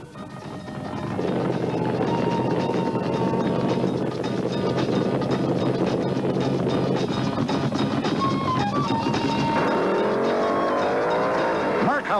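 Top fuel dragsters make a drag race run at the 1975 IHRA Pro Am Nationals in Rockingham, North Carolina, a loud continuous engine roar that rises in pitch near the end, heard from track distance with wind noise.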